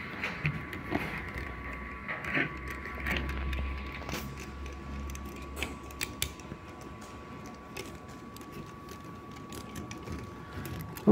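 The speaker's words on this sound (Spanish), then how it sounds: "Vamos a quitarle los tornillos." Screws being worked loose from an anti-drip valve while its washer is replaced, likely with an Allen key: scattered close metallic clicks, ratcheting and scraping over a steady hum, with no talk.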